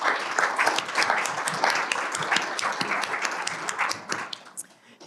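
Audience applause at a 2022 State of the County forum, a burst of many hands clapping close and fairly loud, thinning and fading toward the end.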